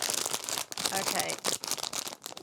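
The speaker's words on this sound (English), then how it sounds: "Again, the bag has not ripped properly." A blind box foil bag is torn open by hand, making close, crinkly tearing and crumpling rustles in quick uneven bursts, with a voice heard through part of it.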